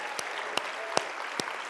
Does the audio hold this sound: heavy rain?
no